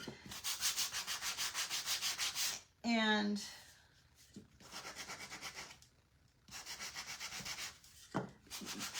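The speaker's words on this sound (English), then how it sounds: "we're going to use the sanding tool, and we're just going to kind of sand the edges" Repeated rhythmic sanding strokes rasp back and forth close by in several bursts, with a short spoken word and brief pauses between passes.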